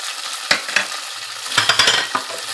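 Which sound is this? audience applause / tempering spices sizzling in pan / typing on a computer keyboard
tempering spices sizzling in pan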